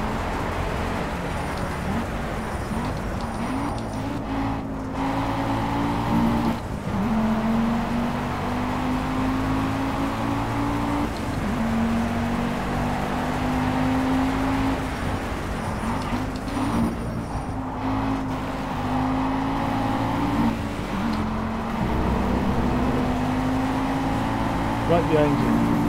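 A 250cc go-kart engine drones steadily throughout a race, its pitch rising and falling with throttle changes, heard close behind a person talking the whole time.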